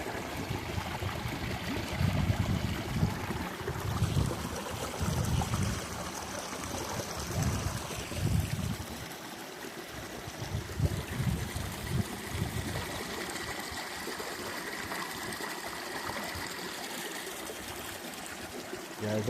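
Cold fresh water flowing steadily outdoors among thick foliage near a cabin, a continuous trickling stream with slightly louder gurgling bursts early on, heard up close with no talk over it.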